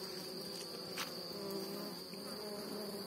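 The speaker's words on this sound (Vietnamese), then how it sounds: "Có hai con ong Ý to ở đây đứng quạt cánh dưới cửa thùng nè." Italian honeybees fanning their wings at a hive box entrance give a steady, close insect buzz and hum that runs unbroken throughout, alone with no talk.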